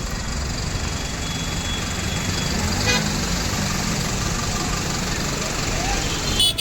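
A travel bus pulling in on a rainy road at night, a steady engine rumble with a brief horn toot partway through, heard close and fairly loud with a voice speaking over it.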